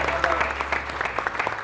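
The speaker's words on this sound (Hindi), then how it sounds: "मुझे मालूम है कि तालियां वालियां जरा कमी बज रही हैं" A studio audience on a TV morning show claps in a light, steady patter, with someone talking over the applause throughout.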